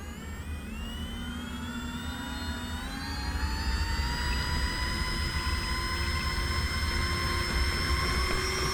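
A simulated RC airplane engine in the RealFlight 9.5 flight simulator whines steadily, then steps up to full power on takeoff, its buzzing pitch climbing slowly and holding loud without voices.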